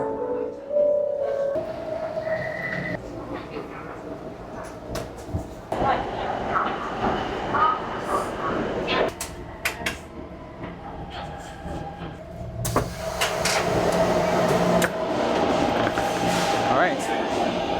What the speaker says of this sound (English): Train should be here any second.